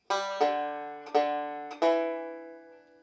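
Banjo picking the pickup notes for "Will the Circle Be Unbroken": four bright plucked notes in quick succession, the last one ringing out and fading, played alone and close.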